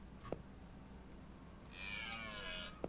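A cat meows in a drawn-out, wavering cry in the middle of a room, fairly close and clear over a low background hum, with a couple of brief knocks around it.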